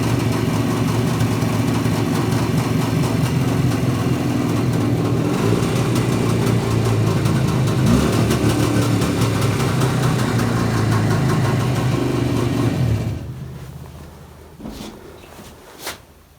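A Jawa motorcycle engine, just rebuilt, idles loudly and steadily with a rapid throbbing rhythm, then cuts out, leaving a few faint clicks and knocks.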